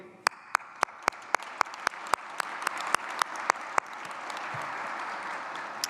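Clapping begins with a few loud individual claps close by, then swells into sustained applause from a large crowd at a Penn State Abington fall commencement ceremony.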